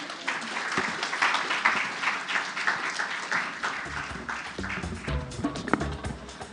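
Audience applause at an International Women's Day gender equality bell-ringing event, a sustained dense wash of many hands clapping at moderate volume, with some brief tapping and faint background voices near the end.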